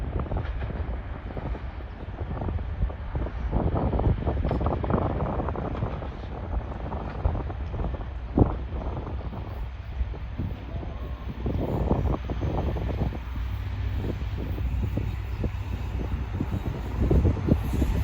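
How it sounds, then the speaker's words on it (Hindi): Tezgam Express hauled by a GMU 30R locomotive pulling into Jungshahi railway station in cool winter weather, a continuous rolling rumble with clattering wheels and gusty wind noise over it. "आज की हमारी 8 डाउन तेज़गाम एक्सप्रेस भी आ चुकी है GMU 30R के साथ"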